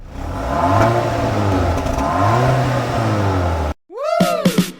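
A 2025 Changan Uni-V's new-generation Blue Whale 2.0T engine, paired with an Aisin 8-speed automatic, revs loudly and close, its pitch rising and falling in surges, then cuts off before a brief final burst of whooshing sweeps.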